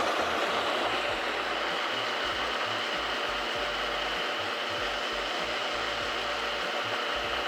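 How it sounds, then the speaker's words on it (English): A blender runs continuously on protein brownie wet ingredients, including agave, a loud steady motor whir with churning rumble throughout, no voices. "we're gonna blend this, and this is it for our wet ingredients"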